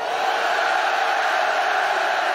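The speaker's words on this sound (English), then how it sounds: "And the crowd as well, just insane." A huge stadium crowd roars and cheers continuously at a Rocket League Ascension grand final, a dense, steady wall of voices filling the space with no pauses.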